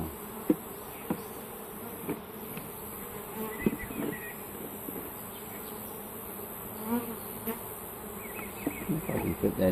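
Honey bees swarm around an open hive as a package of shipped bees is settled into a new hive: a steady, close buzzing hum throughout, with occasional soft knocks from frames being handled.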